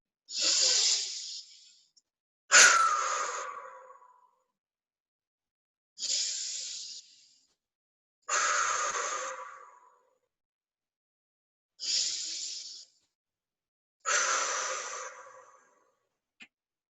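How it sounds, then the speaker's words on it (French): Deep, vigorous breaths during a sophrology breathing exercise, six forceful hissing exhales and inhales in turn, close and loud, each lasting about a second or two, with silent pauses between and no talking. "je vais pouvoir respirer 3 fois de manière plus tonique"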